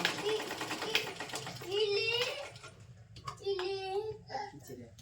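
A sewing machine stitches a row of four tucks in fabric, its rapid needle rattle running in short bursts under a voice and background chatter.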